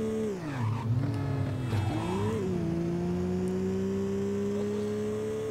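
A race car in the Midnight Club 2 video game revs hard with a nitro boost, its loud engine whine climbing, dipping and then holding a steady high drone, with no talking.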